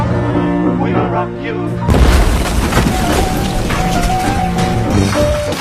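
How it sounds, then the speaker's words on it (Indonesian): A bomb blast bursts in as a loud, dense boom with a sustained crashing rumble, cutting through earlier tonal music and staying heavy to the end. "Suara ledakan, balas dendam selesai."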